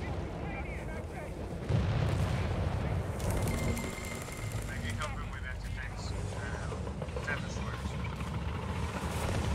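Incoming rocket artillery in Company of Heroes 3 booms and rumbles under continuous battle noise, with heavy low impacts swelling from about two seconds on, while someone talks over the game sounds.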